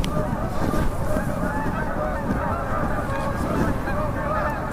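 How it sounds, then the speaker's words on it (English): A flock of geese flies overhead, giving a loud, continuous chorus of overlapping honks that fills the whole stretch without a break. "with a flock of geese flying overhead"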